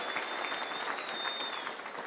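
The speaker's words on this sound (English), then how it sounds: "Let's give them a clap." An audience applauds prisoners at a public service event, a continuous wash of many hands clapping at a moderate, slightly distant level, with no speech over it.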